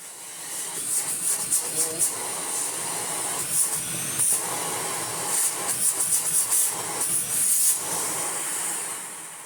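Vorwerk Kobold VK200 vacuum cleaner running without its floor head, a steady, fairly loud airy hiss and whoosh that rises and dips slightly as it moves, with a voice speaking briefly.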